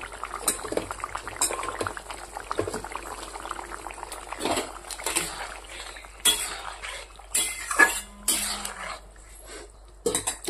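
Fish simmering in a boiling pot, steady bubbling and liquid churning up close with occasional clinks of a utensil against the pot, no talking.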